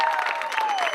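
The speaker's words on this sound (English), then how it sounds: "hopefully audience will give me a huge round of applause" Audience applause at an alumni meet, a dense continuous burst of many hands clapping with a faint tonal whistle or feedback gliding underneath.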